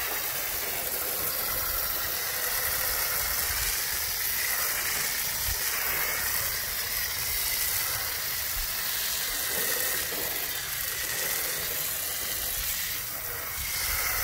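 Water spray rinsing wheel cleaner off a car wheel and tire: a loud, steady, close hiss of spraying water runs unbroken from start to finish.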